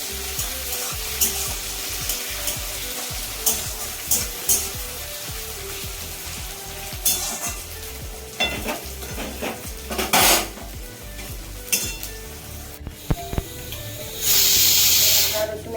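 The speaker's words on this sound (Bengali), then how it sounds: "তারপরে টমেটো কুচি আর পেঁয়াজটা ভাজতে হবে" Chopped onion and tomato frying in a pan for a large Shankar fish curry, a loud continuous sizzle broken by repeated scraping and stirring knocks, with a harsh hissing burst near the end.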